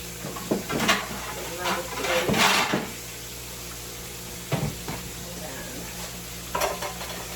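Smothered pork chops simmer in gravy beside cabbage and white rice, giving a steady close sizzle broken by scattered utensil scrapes and clanks, with a voice talking over it at times.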